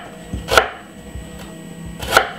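Knife chopping through a white onion on a board for a Jamaican curry vegetable fried rice, with two sharp, close cuts spaced more than a second and a half apart and quiet handling sounds between them.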